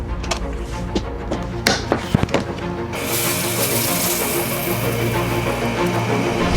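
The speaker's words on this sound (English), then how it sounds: "That sound is water boiling inside the melt" Wet nylon 3D-printer filament popping as trapped moisture boils in the hot melt: scattered sharp pops and crackles, then a steadier hissing crackle continues to the end.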